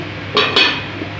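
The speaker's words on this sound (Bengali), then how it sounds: "এবার আমি ঢাকা দিয়ে দিচ্ছি" A metal lid is set onto a cooking pot of simmering prawn and banana-flower curry, giving two quick close clinks in quick succession against a faint kitchen hiss.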